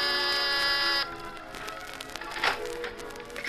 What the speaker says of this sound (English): And then you've got your finger on the door buzzer of Mr. Carr's cloud-high penthouse apartment